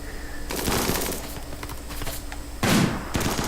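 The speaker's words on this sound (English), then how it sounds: "Yep, Jono's shooting at this guy." Gunfire in the colony-building game RimWorld: a burst of sharp shots starts abruptly and carries on through the clip, with a louder crack near the end, up close and with no talk over it.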